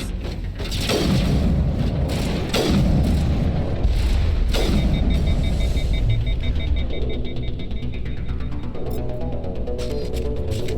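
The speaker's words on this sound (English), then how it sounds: "Let's use the sniper rifle for this." Sniper rifle shots in the video game Mass Effect boom out three times in quick succession, each sharp blast followed by a ringing tail, then a quieter electronic hum and beeping take over.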